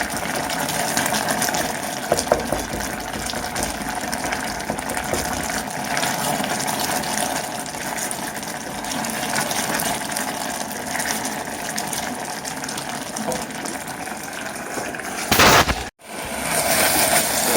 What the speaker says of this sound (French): Un gros bouillon.